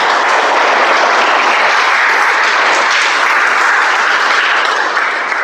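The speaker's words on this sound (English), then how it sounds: "And let's have a huge round of applause from evaluator 1 to 7." Evaluators at a Toastmasters speech meeting receive a full, even round of loud crowd applause, steady and close, with no speech over it.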